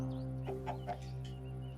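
Chickens clucking in a Minecraft modpack game world, a few short, close clucks in a quick burst over a steady low hum, no one talking.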